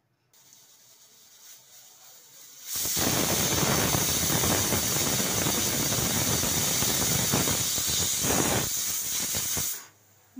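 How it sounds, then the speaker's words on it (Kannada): A pressure cooker cooking lentils lets out a loud, steady hissing whistle of steam that bursts on abruptly after a quieter lead-in, holds for about seven seconds, then cuts off sharply. "ಮೂರು ವಿಸಿಲ್ ಬಂದಿದೆ"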